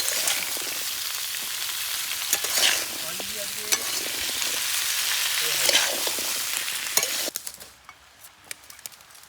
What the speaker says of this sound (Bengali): এখন আমাদের আলু কুমড়ো ভাজা হচ্ছে ভালো করে